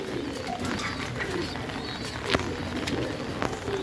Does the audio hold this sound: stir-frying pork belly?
no